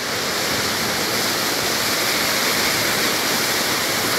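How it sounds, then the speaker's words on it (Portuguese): Waterfall at Camargos in Mariana, Minas Gerais, roaring as a steady, loud broadband rush of falling water, close by and continuous with no talk over it. "A cachoeira da hora aí, ó."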